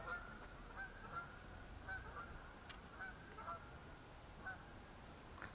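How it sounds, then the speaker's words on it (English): Geese honk from a distance beside a campsite near Delamere Forest, scattered calls repeating faintly over a quiet outdoor background, no one speaking over them. "Where are the geese?"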